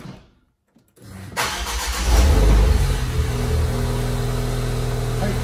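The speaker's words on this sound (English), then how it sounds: "I'm going to start the car up." A Ford Fiesta ST Stage 4 car engine cranks and starts after a brief silence, then revs loudly before settling into a steady, throbbing idle close by.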